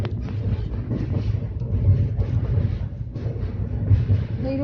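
A passenger train runs along a low stretch of track with the carriage leaning to one side, heard from on board as a continuous loud low rumble and rattle with wind noise and no clear speech.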